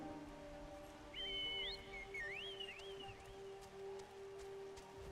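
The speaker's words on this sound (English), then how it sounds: "The chocobo whistle is louder than the emote whistle." A chocobo whistle in Final Fantasy XIV: a bright, rising and swooping whistle lasting a couple of seconds, clear over quiet game music, with no talking.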